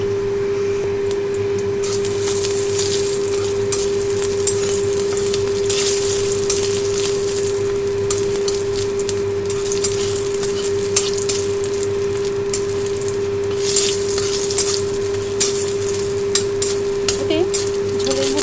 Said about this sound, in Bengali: কড়াইতে সামান্য তেল দিয়ে প্রথমে বড়িগুলো ভেজে নেব